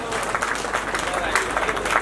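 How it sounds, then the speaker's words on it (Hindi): A crowd in a large pavilion tent claps throughout at a religious pilgrimage gathering, steady moderately loud clapping with voices audible under it. "जोरदार ताली पूरे पांडाल से जोरदार ताली के साथ में सुना।"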